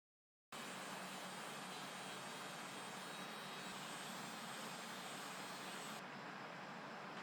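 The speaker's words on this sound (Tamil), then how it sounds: "இந்த ட்ரிம்மர் வந்து நல்லாவே முடி எடுக்குது. சவுண்டு தான் உங்களுக்கு பயங்கரமாக இருக்கே" A Flawless electric hair remover trimmer switches on and runs with a steady, high-pitched motor buzz, close and unbroken for about seven seconds, with no talking.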